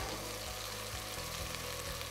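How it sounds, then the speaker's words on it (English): Meat browns in a pot for pilau, giving a faint, steady sizzle with a low hum underneath and no voices. "I prefer cooking the meat in the pot like this, because you get more flavor from it as opposed to boiling the meat."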